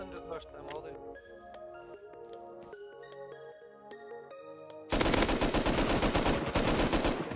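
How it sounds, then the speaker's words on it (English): Semi-automatic rifle gunfire in Rust rattles out in a dense, loud burst of rapid shots during the second half, following a stretch of tonal music and background sound. "Semi shooting at me."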